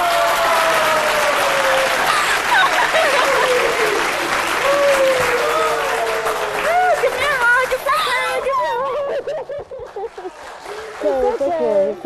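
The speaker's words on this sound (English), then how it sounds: "A round of applause." An audience at an Airtel Zambia event bursts into loud, sustained applause, clapping densely for about twelve seconds with cheering and crowd babble mixed in before it thins toward the end.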